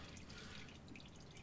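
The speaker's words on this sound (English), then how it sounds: "I will typically let it drip a little bit and get that surplus oil out" Motor oil dripping from the oil filter of a 2017 Ram 1500 with a 5.7L Hemi during an oil change, a faint, quick patter of drops falling steadily.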